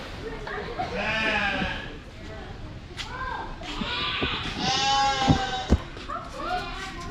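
Repeated goat bleats, wavering and nasal, ring out close by amid chatter from people nearby; several calls over a few seconds.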